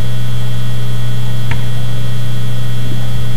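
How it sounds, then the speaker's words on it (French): A heat pump compressor starting up and running gives a loud, steady electrical hum with a brief click near the middle and no voices. "on déclenche le chronomètre et on met en marche la pompe à chaleur"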